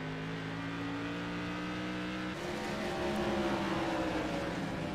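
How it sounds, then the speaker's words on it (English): A modified race car engine roars steadily from an onboard position at Irwindale Speedway, holding a loud, continuous drone with a slight shift in pitch partway through as the car runs on track. "Riding on board with the race leader here of Blade Timmons."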